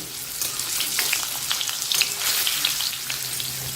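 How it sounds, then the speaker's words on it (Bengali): Chana dal balls deep-fry in mustard oil with a dense, crackling sizzle and scattered bright pops. Light stirring turns them in the pan, and the sound holds steady throughout with no voices. "এগুলোকে এবার একটু উল্টে পাল্টে লাল লাল করে ভেজে নিচ্ছি"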